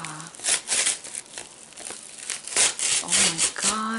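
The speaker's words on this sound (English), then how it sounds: "Okay, let's slowly start opening this. Okay, let's see now. I'm just going to just rip it open." A candy package is torn open in close-up, crinkling and ripping plastic in several bursts, with a voice talking softly in between.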